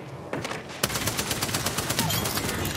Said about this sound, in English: Blanca's shooting at me.